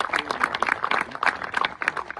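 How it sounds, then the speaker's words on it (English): Applause for Suffolk Medal winners on Suffolk Day, with friends and family in the crowd: steady, dense clapping that carries on throughout without a break. "give them a round of applause because it's their big special day today"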